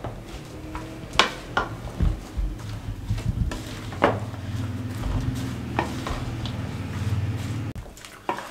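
Cut fruit for a homemade fruit salad is tossed with chaat masala in a bowl, giving soft squishy stirring and irregular spoon knocks against the dish, close up with no talking.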